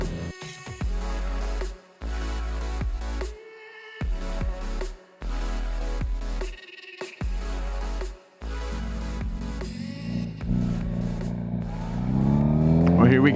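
Motorcycle engine under way on a ride, revving and shifting through repeated gear changes with brief gaps between pulls, loud and close, rising to a sustained higher-pitched run near the end, with speech over parts of it.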